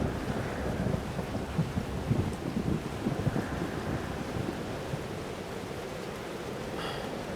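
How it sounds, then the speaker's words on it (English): Thunderstorm in the video game Life is Strange: Double Exposure, a steady roar of rain and wind with low rumbling thunder swelling in the first seconds, then easing to a continuous storm wash. "Is the storm screwing with my powers?"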